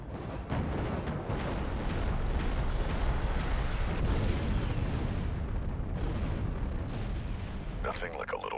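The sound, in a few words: missiles launched and exploding in Star Wars Republic Commando video game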